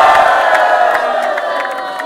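Live crowd at an outdoor event in Cavite City, Philippines, cheering, whooping and shouting loudly and continuously, with a dense roar of many voices close by.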